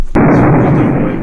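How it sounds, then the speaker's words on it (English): A sudden loud thunderclap cracks and then rolls on as a dense, sustained rumble in a storm within the 1986 video game Uninvited; it comes on abruptly and stays heavy throughout, with no talking. "There is loud thunder quickly following as the storm approaches."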